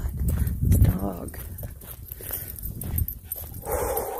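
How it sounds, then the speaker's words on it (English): A dog on a hiking trail is heard up close, with rustling, scuffling movement and brief canine noises mixed among them, while a person talks over it. "God, this dog."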